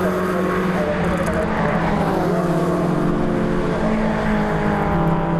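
BMW Compact Cup race cars howl down the Park straight at Cadwell Park, their engines loud and close in a sustained, rising drone that runs unbroken for several seconds with no talk.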